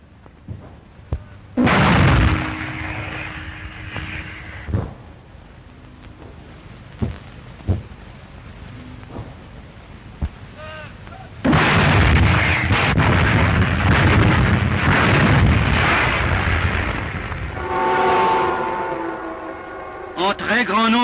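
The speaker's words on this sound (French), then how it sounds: "Un tir d'artillerie va empêcher l'extension de l'attaque." Artillery fire in a May 1940 wartime newsreel, heavy booming blasts and a long rumbling roar on an old, noisy soundtrack, with isolated sharp thuds in between and a whistling, tonal passage near the end.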